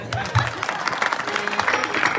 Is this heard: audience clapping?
yes